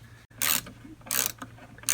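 An 8mm socket on a ratchet tightens a bolt on a 2003 Cobra: three quick bursts of close, crisp clicking pawl strokes separated by brief quiet gaps.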